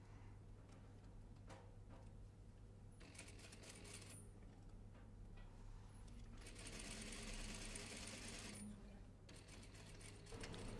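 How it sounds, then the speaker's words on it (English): Home sewing machine stitching a dress seam close to an existing seam, a steady mechanical whirring with a stop and restart partway through, heard up close alone. "Start and stop stitching as close to the seam as possible."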